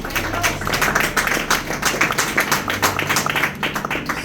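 A church congregation claps together in a steady, dense rhythm that keeps going throughout, with a low musical drone underneath. No voices stand out over the clapping.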